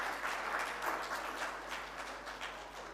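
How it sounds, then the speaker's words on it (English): Steady, even applause from a sizeable audience at an official launch event in Kingston, Jamaica, heard at a slight distance as a continuous wash of claps without any voices. "you can give her a round of applause to welcome her online"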